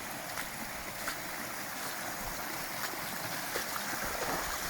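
A steady rush of heavy rainwater running down a gully fills the scene, broad and continuous like a stream flowing close by, with faint scattered splashes.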